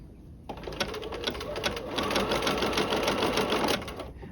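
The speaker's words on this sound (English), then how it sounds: "I'm going to go off camera and construct the French seam on the sleeve" A sewing machine stitches a French seam on a garment sleeve, a steady rapid mechanical chatter running close and continuous for about four seconds after a brief quiet start.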